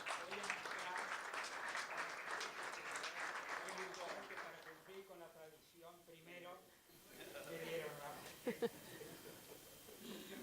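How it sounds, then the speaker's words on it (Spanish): Audience applause at a university honorary doctorate ceremony, a dense wash of clapping that fades after a few seconds into a speaking voice and scattered sounds. "Brindamos un muy fuerte aplauso"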